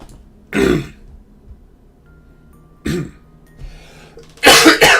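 Three separate bursts of coughing and throat clearing from one person close by: two short harsh coughs spaced a couple of seconds apart, then a louder double cough at the end, with quiet room tone between.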